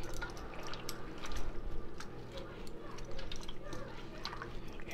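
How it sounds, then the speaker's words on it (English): Water pours into a pan of baked turkey wings, a steady wet splashing and dripping that runs through the whole stretch at close range. "And we're going to go back again with some more water here."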